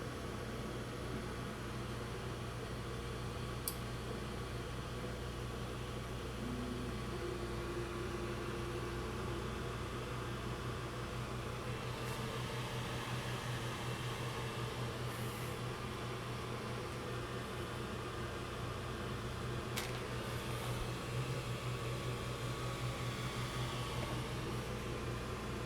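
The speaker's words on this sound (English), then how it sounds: "Okay, the printer is just about to start." A Creality Ender 3 Pro 3D printer fitted with a BL Touch and a 4.2.7 motherboard runs with a steady, quiet mechanical hum and soft fan whir, broken by occasional faint clicks.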